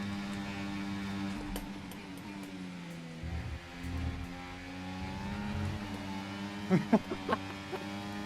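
Racing car engines in F1 24 during a drag race drone steadily with layered harmonic whines, a dip and swell midway, and a few sharp bumps near the end, with faint voices underneath.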